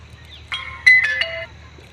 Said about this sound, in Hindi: तो फोन आएगा भैया।